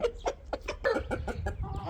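A five-kilo rooster clucks in a quick run of short, nasal calls, close and fairly quiet, each call separated by brief gaps.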